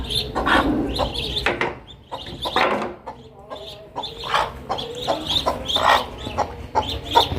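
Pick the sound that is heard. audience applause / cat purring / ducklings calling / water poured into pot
ducklings calling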